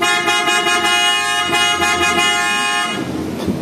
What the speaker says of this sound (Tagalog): check natin yung output or lakas ng busina mga bossing